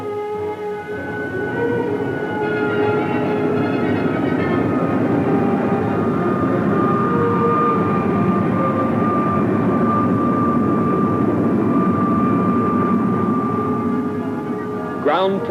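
Avro jet aircraft engines roaring during takeoff at an airfield, a loud sustained rumble with steady whining tones that holds for the whole span, ending in a brief rising whistle.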